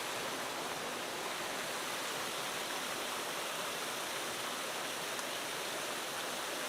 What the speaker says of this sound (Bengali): রাজাই ঝর্ণা।